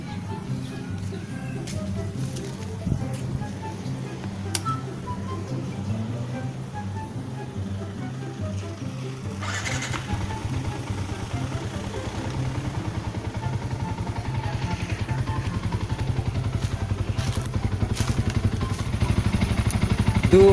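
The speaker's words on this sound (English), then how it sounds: "Then turn on the engine." A clutched motorcycle sits on its center stand with the engine running, a steady low rumble that holds throughout and slowly grows louder toward the end, with some light clatter.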